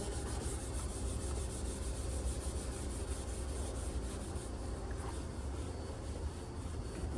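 A towel soaked in Nakarai rust remover rubs rust off a metal rack in steady back-and-forth scrubbing strokes, close and fairly quiet, a continuous dry swishing friction with no talking.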